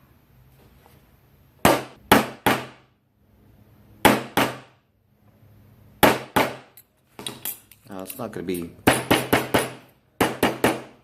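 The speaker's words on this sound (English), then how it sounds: "this is the stamp I'm going to use to make the feather impressions." A hammer strikes a steel stamp into silver to make feather impressions for handmade Navajo jewelry. The metallic blows are sharp and close, coming in quick bursts of two to four, and a person talks briefly between them.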